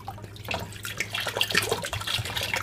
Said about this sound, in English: pour out your water